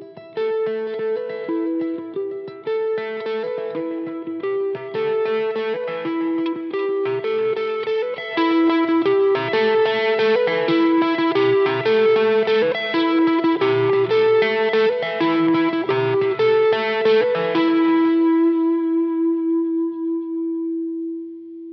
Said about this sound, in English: I also have a stereo delay and a stereo reverb on here